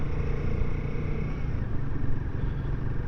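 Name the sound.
Royal Enfield Guerrilla 450 motorcycle engine accelerating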